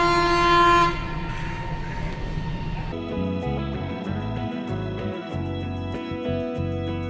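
A train at Coonoor railway station, a loud opening rumble with a horn-like tone, then a steady tonal drone of the train's engine and wheels with rhythmic pulsing, heard up close throughout.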